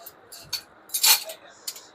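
Stainless steel serving spoons clink and jingle as they are handled, giving a few bright metallic taps and one louder chiming clash within a couple of seconds.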